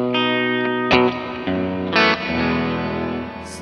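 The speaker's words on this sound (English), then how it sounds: "And then we go to the reverb, which is the last." Distorted electric guitar notes and chords through a Boss GX-700 effects processor, ringing out with reverb, each strike trailing off into a lingering wash.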